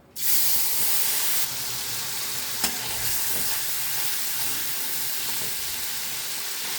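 Nigella seeds and a ground spice paste hit hot oil in a pan with a sudden loud, bright sizzle that settles into a steady close hiss, with a single sharp clink partway through.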